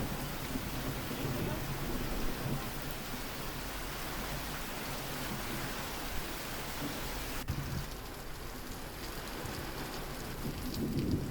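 Steady heavy rain pouring on surfaces during a storm, a dense continuous hiss with low rumbling thunder underneath and a sharp crack about two-thirds through.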